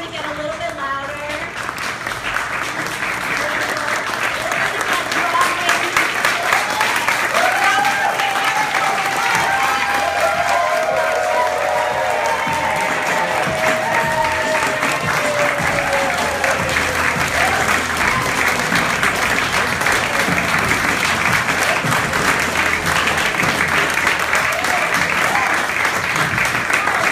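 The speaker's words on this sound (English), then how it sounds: "So we are going to start with a golf clap." An audience at a Tucson showcase starts with a soft, sparse golf clap, then breaks into loud, dense applause that holds steady for about twenty seconds.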